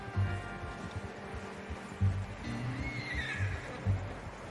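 A horse neighs in Red Dead Redemption 2. A fairly faint whinny rises above a low rumbling background with soft thuds, and no one speaks.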